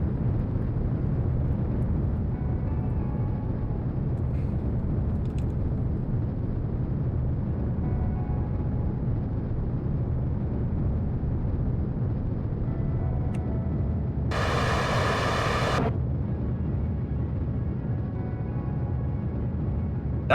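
Steady, dense low rumble of a solid rocket booster burning in Kerbal Space Program, continuous and even throughout, with a brief brighter burst near the end.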